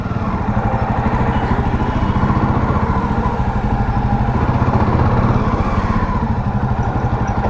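A Jawa Perak bobber motorcycle rumbles at close range as it comes back from a ride, its engine a loud, steady, throbbing idle with rapid even pulses throughout.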